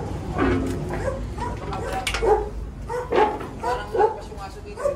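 A dog barks and yips repeatedly in short bursts, fairly close and loud, with a few whimpering notes mixed in among the barks.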